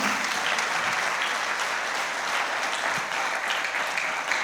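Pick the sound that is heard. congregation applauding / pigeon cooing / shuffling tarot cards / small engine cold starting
congregation applauding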